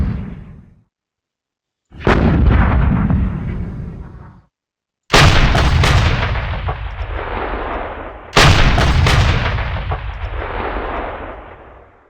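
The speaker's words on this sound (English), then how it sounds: "we're going to use my artillery to support these attacks here on the flank." Artillery fire in the Panzer Campaigns Budapest 45 wargame: three loud, booming cannon blasts, each with a sharp crack and a long rumbling decay, separated by brief silences, with a fainter fading shot at the start.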